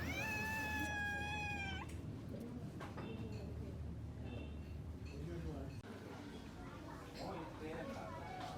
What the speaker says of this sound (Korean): 하지만 우리의 식사를 방해하는 개냥이. 여기 고양이는 낯도 안 가린다.